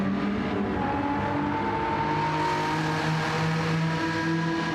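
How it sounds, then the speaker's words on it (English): V6 race car engine in Gran Turismo 7, fitted with a race modification, drones steadily with layered harmonic tones, rising slightly in pitch as it holds revs, loud and continuous with no talk. "Sounds pretty good for a V6."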